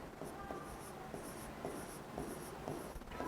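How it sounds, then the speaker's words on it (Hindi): A pen or marker writes on paper or a board, making short, faint scratching strokes in a quick, repeated rhythm up close, with no talking. "यहाँ पे लिख देती हूँ।"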